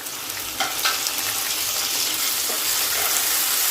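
Two green chillies and chopped normal-sized tomatoes sizzle in a hot pan for dal, a continuous close frying hiss with a few soft stirring knocks and pops.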